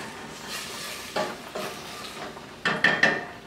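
A spoon scrapes and clatters through apples and raisins simmering in a pan, a few soft stirring strokes followed by a quick run of sharper clinks against the pan under a faint background hiss.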